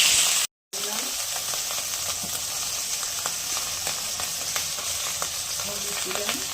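Nigella seeds sizzle and crackle in a small amount of hot oil for tempering a tilapia and eggplant curry. The steady, loud hiss runs throughout, with scattered pops and stirring scrapes, a brief dropout near the start, and no talk.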